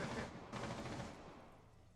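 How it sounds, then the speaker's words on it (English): A burst of rapid gunfire in the video game Rainbow Six Siege, from walls being broken, dense and rattling, fading over a couple of seconds with no talking. "You hear a lot of gunfire, but really it's just breaking walls."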